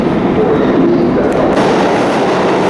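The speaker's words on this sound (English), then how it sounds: "There's the tracks. So it's like an underground train." A New York City subway train runs on underground tracks, giving a loud, steady rumble with no clear breaks that fills the whole stretch.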